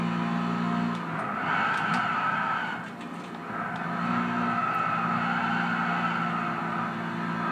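A race car in the PlayStation 3 game Gran Turismo 6 drones loudly and continuously at high revs, the engine note dipping briefly partway through before climbing back, with no talking.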